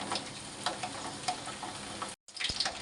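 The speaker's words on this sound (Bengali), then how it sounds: "রসুন বাজতেছে তেলের ভিতরে।" Garlic cloves frying in hot oil crackle and hiss softly and steadily, with a few ticking pops, close up and fairly quiet, broken by a very short gap near the end.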